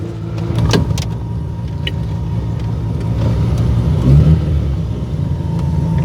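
A Mazda RX7 on a test drive, heard from inside as a steady low engine drone and road rumble, with a brief swell of revving around the middle and faint clicks and rattles from the cabin, no speech.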